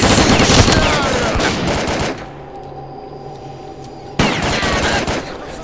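Pistol gunfire in the game S.T.A.L.K.E.R. Call of Pripyat, with rapid bursts of shots up close, a quieter pause of about two seconds, then a fresh volley of shots.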